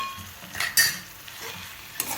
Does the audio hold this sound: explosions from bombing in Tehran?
no